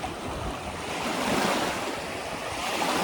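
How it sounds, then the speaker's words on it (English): Waves break and wash ashore at Crystal Beach in Fort Erie on Lake Erie, a steady, loud roll of surf with some wind noise across the microphone and no voices. "The waves coming again, again and again"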